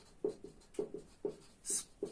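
Chalk or marker strokes on a board during an engine lesson: a series of short, scratchy taps in an uneven rhythm, close and fairly quiet, with one longer hissing stroke near the end.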